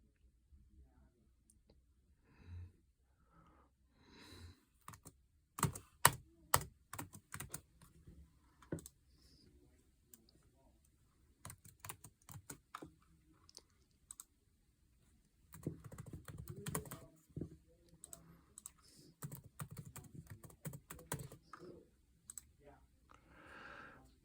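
Typing on a computer keyboard comes through as irregular bursts of crisp key clicks, dense flurries alternating with short pauses, close by and moderately loud.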